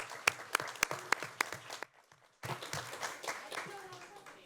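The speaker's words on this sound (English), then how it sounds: "Give her a round of applause." Audience at a board of trustees meeting clapping for Ms. Anderson, a few sharp distinct claps at first, then a short near-silent gap before scattered applause resumes and fades under murmured voices.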